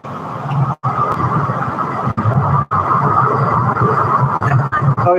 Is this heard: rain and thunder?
no